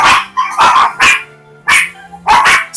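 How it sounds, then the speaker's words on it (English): Several dogs bark loudly and close by in a quick, irregular series of about six sharp barks with brief pauses between them, alone without any talk. "Our dogs are barking."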